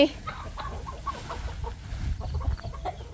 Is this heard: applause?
no